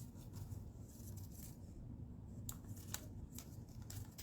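Scissors snip through a paper branch cut-out while a feminine greeting card is being crafted, giving several crisp, close cuts in quick succession over a quiet background.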